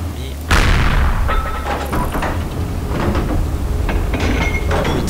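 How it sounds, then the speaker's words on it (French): Explosive shell fire in the World War II shooter game Heroes & Generals: a sharp boom at the start followed by scattered impacts and clanks within the game's noisy battlefield ambience. "mes obus explosifs ici pour histoire de les tirailler un coup"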